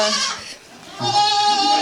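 Goats bleating in a crowded barn shared with chickens, geese and a pig, two loud, close, wavering bleats separated by a short pause.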